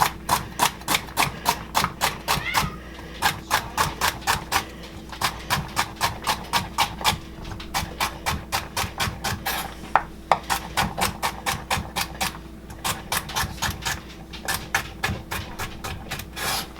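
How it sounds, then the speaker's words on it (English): A knife chops celery on a bamboo cutting board in a quick, steady series of crisp knocks, close and regular, pausing briefly now and then before resuming the rhythm. "this is always how I like to chop celery"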